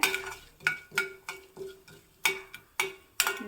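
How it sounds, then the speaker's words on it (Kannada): Mustard seeds and urad dal spluttering in hot oil for a South Indian tempering, with sharp crackling pops in irregular bursts close by, no talking. "ನೋಡಿ ಒಗ್ಗರಣೆ ಹಾಕ್ತಾ ಇದೆ"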